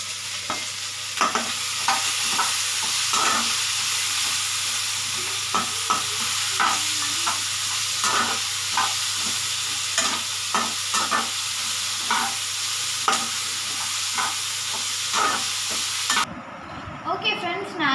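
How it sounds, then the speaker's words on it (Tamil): Tomatoes with salt sauté in a pan under a constant soft sizzle, punctuated by regular spatula scrapes and stirs close up, ending with a brief clatter. "தக்காளியோட நம்ம கொஞ்சம் உப்பு போட்டு சேர்த்து வதக்குனா தான் கொஞ்சம் நல்லா வதங்கும்."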